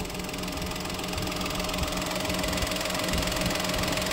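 Steady, slightly rough idle of a Citroën C3 1.2 petrol engine, a continuous close hum with a faint rhythmic knock and vibration throughout, no voices.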